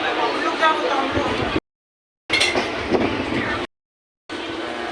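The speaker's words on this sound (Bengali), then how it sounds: "আমরা যে ট্রেনটা করে দীঘাতে যাচ্ছি" A passenger train runs out from Digha, its carriage rattle and rumbling wheels loud and close, with voices mixed in and two abrupt silent gaps cutting the sound.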